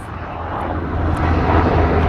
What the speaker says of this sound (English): I'll wait till the helicopter goes by